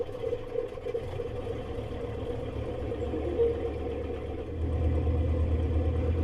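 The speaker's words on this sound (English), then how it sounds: "I think that sounds very much like a diesel engine." A model diesel engine sound module plays a low, steady diesel engine rumble idling on, with a slight shift in pitch and loudness partway through, mechanical clatter underneath, no voices.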